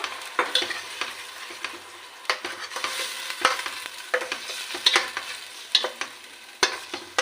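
Onion, garlic and ginger fry in hot oil in a wok, with a soft continuous sizzle broken by repeated sharp scraping strokes of a spatula in an uneven rhythm, close and fairly quiet.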